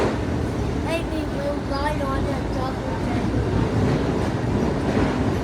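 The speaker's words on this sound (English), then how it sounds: "Another high-speed train, that's right." A double-decker high-speed train rushes by near Richmond, heard as a continuous rail rumble and hiss throughout while someone speaks over it.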